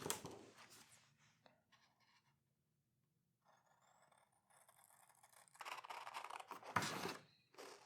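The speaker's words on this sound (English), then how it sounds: "let's get some scissors on these" Paper being cut with scissors for a geometric cut-paper collage, close snipping and scraping strokes in bursts with quiet pauses between, no talk.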